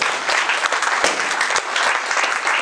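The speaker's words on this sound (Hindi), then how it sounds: "आप ताली बजा सकते हैं इनको?" Audience applause at a Sunstar Atmanirbhar Bharat campaign event: dense, steady clapping from a sizeable crowd, loud and close, holding evenly through the whole stretch with no voices over it.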